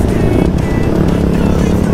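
Kawasaki KLX 450 supermoto motorcycle engine coughing and overheating at a Jakarta supermoto gathering, a loud, close, continuous rough rumble with no pauses.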